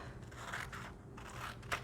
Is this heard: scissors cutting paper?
yes